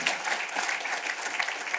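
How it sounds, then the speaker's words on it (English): A room of people applauding at a housing authority address, a dense, even patter of many hands clapping at a moderate distance without pause. "Another round of applause for that."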